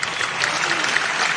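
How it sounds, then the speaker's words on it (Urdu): An audience at an Independence Day poetry gathering (mushaira) claps in a dense, steady burst of applause, loud and close, filling the whole moment. "آپ تالیاں بجا سکتے ہیں، کنجوسی مت کیجیے۔"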